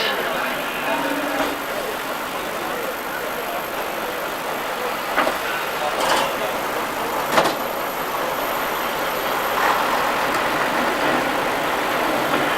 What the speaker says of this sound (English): This is a Scammell Amazon tractor unit